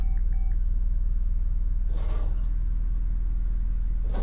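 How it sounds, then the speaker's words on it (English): A brake tester in Car Mechanic Simulator 2018 shakes a Mayen M6 car with a steady, rapid mechanical rumble and rattling creak that runs continuously throughout, loud and alone. "It's going to shake the car around."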